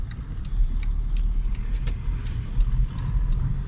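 A Volkswagen Golf 4 TDI drives along a snow-covered road, its engine and tyre noise a steady, loud rumble from inside the car with faint rattling on top.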